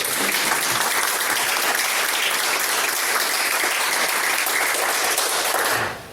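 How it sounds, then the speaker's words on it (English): Audience at a community meeting breaks into loud, sustained applause, dense clapping holding steady for about six seconds before fading out at the end. "Can we just applaud it?"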